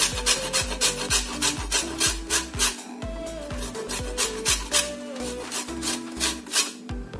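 Orange peel is grated for zest, a close, steady run of rhythmic rasping strokes, about two per second, scratching across the grater with no talking.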